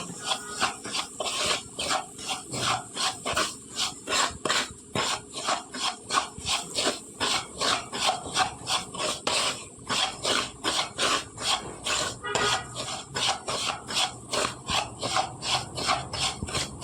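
Semolina roasts in ghee in a pan as a utensil scrapes and stirs it in quick, even, repeated strokes, close and steady throughout, with no talking.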